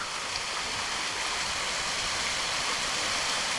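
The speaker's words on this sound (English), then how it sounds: "let's take a look at this waterfall real quick" A waterfall on Mowbray Mountain, Tennessee, in foggy, rainy weather, a steady broadband rush of falling water, close and constant with no talk.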